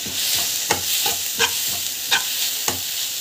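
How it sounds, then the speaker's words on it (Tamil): Coriander and turmeric powder sauté in a pan under a low, continuous sizzle, while a spatula scrapes through the mix in regular strokes roughly every half second, close and clear with no talking. "போட்டுட்டு நல்லா வந்து வதக்கிட்டுக்கோங்க"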